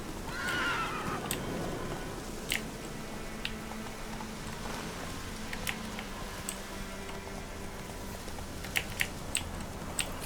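Roach, Geralt's horse in The Witcher 3, lets out a clear whinny near the start, followed by sparse clicking hoof and tack sounds over a low ambient bed.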